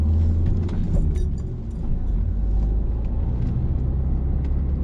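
Car engine pulling steadily after a shift into second gear on a driving lesson, a continuous low rumble close by, with no talking over it.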